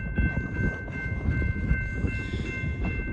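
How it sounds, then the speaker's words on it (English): Coal train coming off the Napier subdivision without distributed power, a loud steady rumble of rolling cars with faint rhythmic clatter close by, no voices. "The next clip here is yet another coal train coming from the Napier subdivision, this time with no distributed power."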